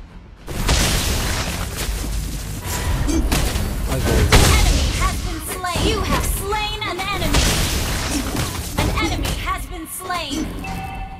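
Turret destruction in the Mobile Legends game: booming impacts and explosive thuds crowd together over battle effects, loud and continuous, with a game announcer voice among them.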